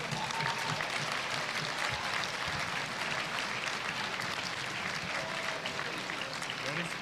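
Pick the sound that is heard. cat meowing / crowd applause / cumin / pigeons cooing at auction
crowd applause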